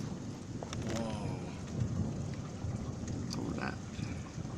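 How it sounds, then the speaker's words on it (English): Thunder rolls through a severe lightning storm, a low continuous rumble with rain noise, heard from a distance over about four seconds. "Thunder is rolling."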